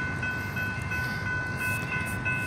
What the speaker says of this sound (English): We have a CSX coming.